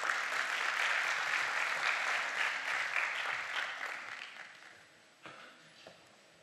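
Conference audience at a national informatics congress in Turkey applauding a guest taking the stage, a broad steady wash of clapping that gradually fades and trails off into a few last claps.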